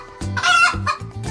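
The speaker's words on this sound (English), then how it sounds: "This is a chicken." A chicken gives a few close, loud clucks in quick succession, alone and with no talk.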